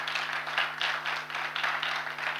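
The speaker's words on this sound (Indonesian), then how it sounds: "tepuk tangan buat adik teman kita ini" Audience applause for a teenager at a church teens' service, a dense, steady wash of clapping that swells and dips slightly over a low electrical hum, with no voices standing out.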